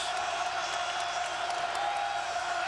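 Packed home crowd of Maryland fans in red at Comcast Center during the 2005 Duke at Maryland college basketball game, a steady loud roar of cheering and whoops throughout with no break.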